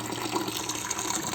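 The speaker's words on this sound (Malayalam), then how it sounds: "നമ്മളിവിടെ വെള്ളം നിറക്കുന്നു" Water pouring steadily into a container for fish, a close, continuous gushing fill.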